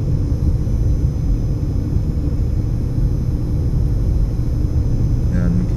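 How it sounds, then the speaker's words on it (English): A car engine moans and labours as it climbs a steep hill on a 25 mph residential street in North Las Vegas, a steady low rumble filling the whole stretch without any talk over it. "we can hear the car engine kind of moaning there as we climb"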